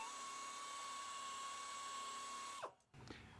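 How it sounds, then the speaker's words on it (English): A high-speed air buffer grinds down the inside rubber surface of a tire to prepare it for a patch repair, a steady high-pitched whine that abruptly spins down near the end, followed by low rumbling noise. "We're going to get ready to buff that area down, so it'll be one surface for the patch to bond to."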